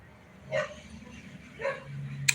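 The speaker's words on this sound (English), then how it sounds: "like my dog's getting fussy out there." A dog outside barks twice, sharp and fairly distant, about a second apart, over a steady low hum indoors.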